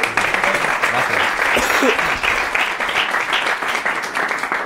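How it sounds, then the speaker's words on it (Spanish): An audience claps for Crusy at an SAE music production session, a lively steady burst of applause from a room full of people with a few voices mixed in. "Un fuerte aplauso para Crossing."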